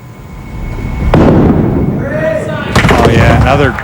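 A five-pin bowling ball strikes the pins in a televised semi-final, a sharp crash followed by clattering pins, loud and close, while a crowd reacts and voices murmur underneath.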